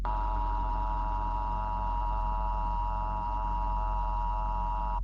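An emergency broadcast alert for northern Berkshire County, Massachusetts sounds as a steady, sustained dual-tone signal that holds at constant loudness for about five seconds, alone with no talk.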